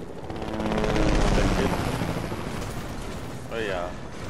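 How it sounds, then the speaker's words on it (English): Helicopter approaching in Fortnite: a broad rotor roar swells and peaks early, then holds steady under players' chatter. "Oh, another chopper. Yep, it's coming right for us."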